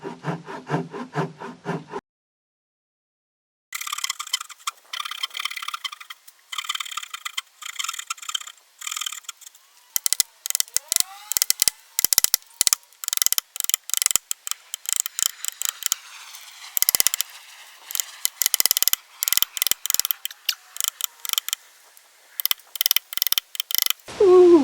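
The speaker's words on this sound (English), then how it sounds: "I'm taking my chisel and hammer and just knocking the blocks out and then shaving them up till they look neat." A chisel and hammer knock out wooden blocks and shave them down on a brick chicken coop roof, producing bursts of close, rapid scraping, rasping and knocking strokes separated by short pauses.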